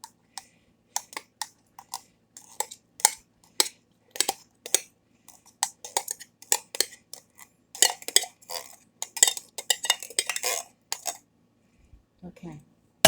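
A metal spoon clinks and scrapes against a dish holding drained tomatoes, with irregular sharp taps that grow denser and busier midway before trailing off.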